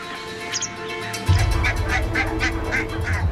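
Barnacle geese honking repeatedly at a steady pace over a low rumble of background noise, moderately near.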